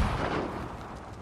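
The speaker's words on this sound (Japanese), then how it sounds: "爆発矢で、" An explosive arrow detonates in Ghost of Tsushima, a single loud burst with a broad rumbling tail that fills the whole moment and fades slowly.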